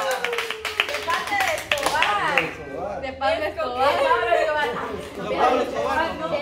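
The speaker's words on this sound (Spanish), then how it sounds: "Un aplauso para Alejandra." Clapping for Alejandra breaks out among a small group, mixed with chatter and light laughter, while voices keep talking loudly over it throughout.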